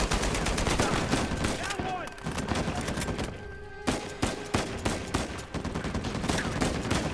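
Bursts of automatic machine gun fire in the Uncharted 4 video game, loud repeated sharp cracks in uneven rhythm amid game noise and shooting.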